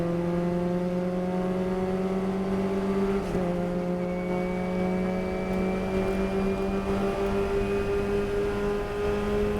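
A Formula Ford race car drones continuously at Summit Point Motorsports Park, its engine note holding steady and creeping slightly higher as it pulls out of a corner, heard from onboard with no voices.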